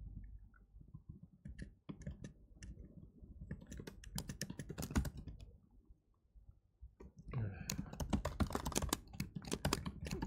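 Someone types on a computer keyboard while working through a coding problem, with uneven bursts of fast clicking keystrokes, a brief pause, then a denser run of tapping, close and fairly quiet.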